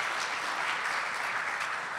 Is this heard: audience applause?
yes